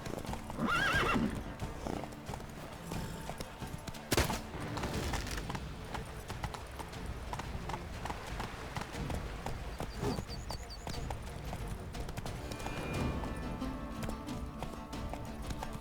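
A horse gallops with a brisk clip-clop of hooves and lets out a whinny in The Witcher 3 game, the hoofbeats steady and close under a voice.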